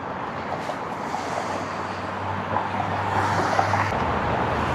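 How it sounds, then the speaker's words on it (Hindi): Cold wind blows across the Brooklyn Bridge, a steady broadband rush with buffeting on the microphone and a low hum of traffic beneath, continuous and loud. "हवा चल रही ठंडी ठंडी"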